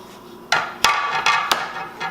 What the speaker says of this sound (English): hold on to it well, have a good knife, and then what I find is just rocking it a bit is easier to cut through